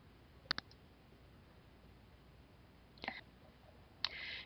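A computer mouse clicks three times against a quiet desk background, a quick double click near the start and two more single clicks a few seconds apart, each short, close and crisp.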